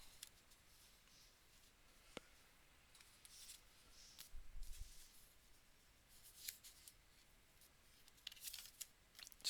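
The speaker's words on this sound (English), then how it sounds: "We could just turn it in half and cut it down." Scissors cutting a paper card in half during a craft project, a few quiet snips and rustles spread across a faint, otherwise still background.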